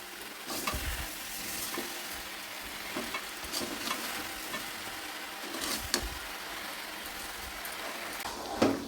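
About five kilograms of mango with two kilograms of sugar stirred in a pot for Bengali mango jelly pickle, with a steady sizzling bubble and repeated scraping stirs at irregular intervals, close, no voices.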